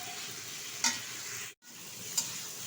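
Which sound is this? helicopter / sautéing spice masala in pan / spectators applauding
sautéing spice masala in pan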